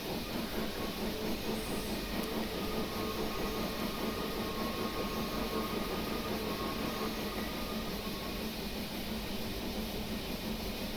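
Steady chuffing and hissing of the 1885 Dom Pedro 2-10-0 steam locomotive in Train Simulator Classic, a continuous even rhythm under a constant wash of noise at moderate level, with no voices.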